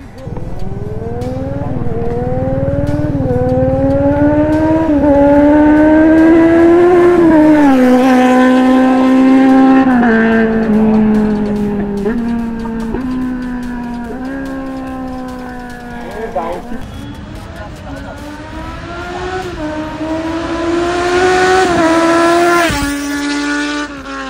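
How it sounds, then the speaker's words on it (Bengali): A Kawasaki Z900 motorcycle engine roars loudly, its pitch climbing and dropping through several revs as it speeds past, with a sustained, buzzing howl throughout. "এখন শুনবো ভাই G900 ফ্লাইবাই সাউন্ড।"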